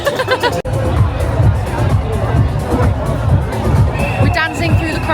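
A dense crowd at a Brighton pride parade, steady loud babble of many overlapping voices with chatter close by, a brief sharp drop in the din near the start, and a whistle-like tone near the end.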